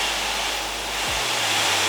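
A Dyson Supersonic hair dryer blowing at high fan speed, a close, steady broadband rush of air with a brief low tonal dip as the setting changes, no talk.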